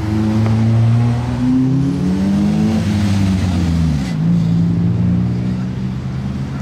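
Sports cars passing on a public street, a loud exhaust note with rising and falling engine tones as vehicles go by close, the sound swelling and shifting pitch, with a background of street noise.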